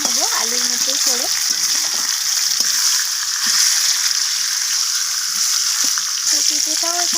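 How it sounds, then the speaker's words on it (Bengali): Papaya pieces fry in hot oil with potatoes, a steady sizzle and bubbling heard under a voice that comes in at the start and end. "তো পেঁপেটাকেও আমি লালচে করে ভেজে নেব আলুর মধ্যেই করে।"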